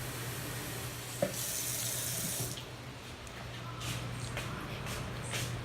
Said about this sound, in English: And then you'll get some water, a cup of water, half a cup will do.